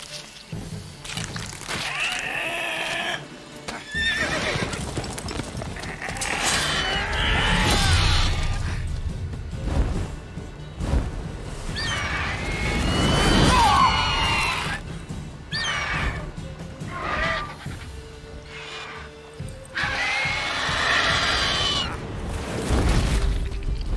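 Horse neighing and whinnying repeatedly in a modded video game, loud and close, several long whinnies with splashing and clattering between them, no talk.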